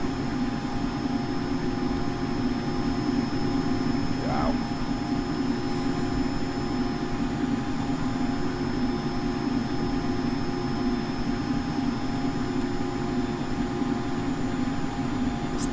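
A Cessna Citation CJ4X jet taxiing in the P3D flight simulator, with a steady, unbroken engine drone and whine holding at one level throughout with no talk.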